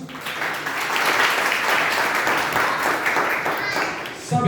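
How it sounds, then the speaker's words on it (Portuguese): A church congregation gives sustained applause for Jesus, a dense, even wash of many hands clapping together that holds steady for several seconds at a moderate level, with no talking over it. "Vamos dar uma salva de palmas para Jesus?"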